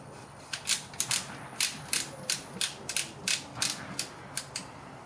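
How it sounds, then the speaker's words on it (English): Barrel securing nut being screwed onto the front of a Fabarm autoloading shotgun's magazine tube, a rhythmic series of about a dozen crisp ratcheting clicks, close and clear with nothing else heard. "Install our barrel securing nut on the front of the magazine tube."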